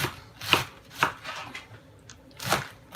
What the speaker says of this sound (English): I like to just take my cabbage, cut it down thick.